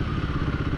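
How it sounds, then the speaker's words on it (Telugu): A 2025 Royal Enfield Guerrilla 450 motorcycle engine runs with a steady, close rumble and a slight rattling texture, loud and continuous throughout. "ఆ ఇంజన్ సౌండ్ వినండి"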